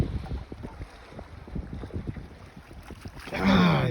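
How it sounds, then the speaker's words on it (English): Gusty wind on a lake buffets the microphone around a small fishing boat, a steady rough roar with a swell of louder gusting near the end. "The wind has really picked up."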